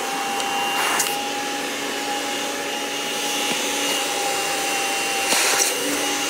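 A Kirby G5 upright vacuum cleaner, not yet restored, runs steadily with a loud, constant whine and hiss. A couple of brief bumps or handling knocks sound close by. There is no talk.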